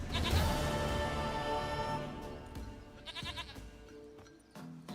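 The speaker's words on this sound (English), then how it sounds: "Goat of mine, dearest, sweetest goat." Goat bleating in The Witcher 3 video game, one long wavering bleat at close range followed by a couple of shorter, softer calls against faint game ambience.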